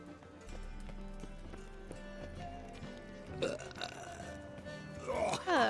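In The Witcher 3, a few deep, guttural belches erupt one after another over quiet game ambience, the last ones louder and rougher.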